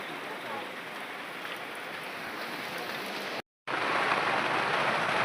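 Steady heavy rain pours down outdoors during a rainy-season wedding celebration, a dense continuous hiss that holds loud throughout, broken only by a brief dropout near the end.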